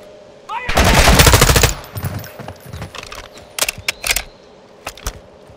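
Sustained automatic machine gun fire in Call of Duty: Modern Warfare 2 (2022) on Xbox Series X, a loud dense burst of about a second, followed by scattered sharper single shots and short bursts.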